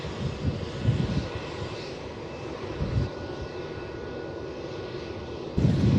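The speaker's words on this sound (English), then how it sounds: "That 787 from Jetstar will take off once this one lands." An airliner landing at Melbourne Airport, a steady broadband engine roar at moderate distance with gusty wind buffeting the microphone and a louder rush near the end.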